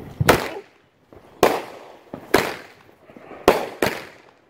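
Fireworks are set off during a July 4th celebration, with five sharp, loud bangs at irregular intervals, each crackling and echoing briefly before fading into quiet.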